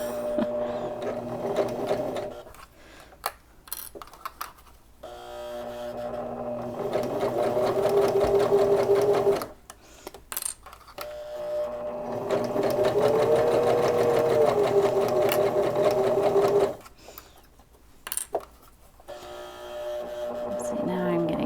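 A sewing machine stitches a fabric Kindle sleeve with elastic and a button closure in several steady runs of motor whir, separated by pauses in which a person talks quietly.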